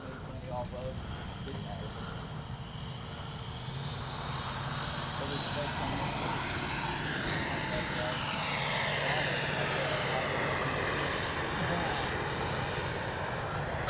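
A FlyFans Baltic Bees L-39 radio-controlled model jet roars past in flight, its turbine whine rising and falling as it passes, a steady loud rushing drone outdoors, with occasional talking in the background.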